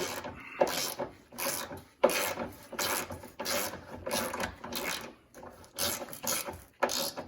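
A hand ratchet wrench tightens a bolt until snug, producing about a dozen rhythmic bursts of close, rasping clicks, one per stroke, with short gaps between.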